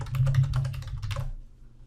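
Typing on a computer keyboard, a quick close run of soft key clicks for about a second and a half before stopping, no voices.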